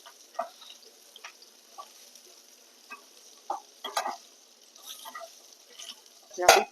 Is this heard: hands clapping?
no